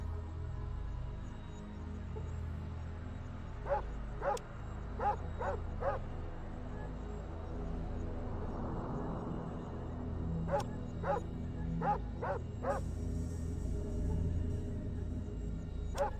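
Game dog in Fallout barking in two short bursts, a cluster of four sharp barks early on and a faster run of about six later, over a steady low ambient hum.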